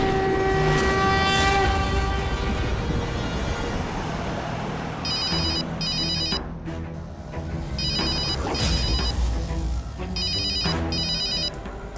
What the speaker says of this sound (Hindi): विवान का फोन